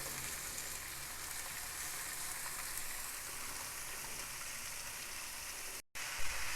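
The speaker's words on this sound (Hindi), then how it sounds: "अब इस सब सब्ज़ी को तेज़ आंच पे हमने फ्राई करना है।" Vegetables including cabbage fry on a high flame with a steady, dense sizzle, close and continuous, broken by one brief cutoff near the end.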